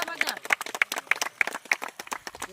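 A group claps loudly and quickly at a gathering celebrating a new borewell clean-water supply for a family; dense, close, irregular clapping mixed with voices for the whole stretch.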